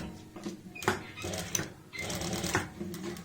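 A sewing machine stitches a layered pant up to a sewn-on strip, running in several short, loud rattling bursts separated by brief pauses, close by with no speech.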